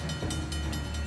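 A moving train rumbles in the video game Uncharted: The Lost Legacy, a brief, steady, loud rolling roar with a rhythmic clatter.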